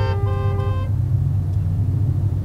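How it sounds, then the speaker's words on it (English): Car horns honk in city traffic at a red light, a short blaring toot layered over another in the first second, above the low steady rumble of idling vehicles that continues afterward. "Why is everyone honking?"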